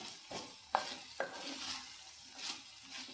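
A spoon stirs raw plantain and egg thoran in a pan, with a few sharp scrapes and clinks against the metal over a soft, faint sizzle, close and quiet.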